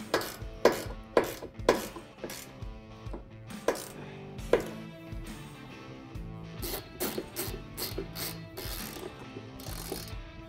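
Nuts being tightened on a Can-Am Commander Sherpa cargo rack with a ratchet wrench: a run of sharp clicking pulls at first, then quicker, denser ratcheting, close and clear with no talk.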